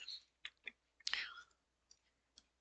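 A few quiet clicks and taps on a phone app's question-mark button come in short separate bursts, with one longer rustling burst in the middle, close and soft with no talking.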